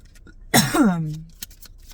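A single sharp, close cough bursts out, trailing into a voiced groan that fades, followed by a faint click in an otherwise quiet room.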